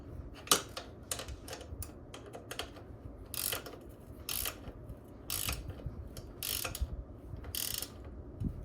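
Parts on a Kawasaki KE175 motorcycle build being tightened: a series of short ratcheting clicks and rasps in bursts, close and moderately quiet, without speech.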